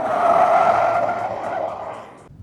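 A Changan UNI-T with a 1.5-litre turbocharged engine of 170 hp and 20-inch wheels driving on a race track, a loud sustained tyre-and-engine roar that slowly fades before cutting off.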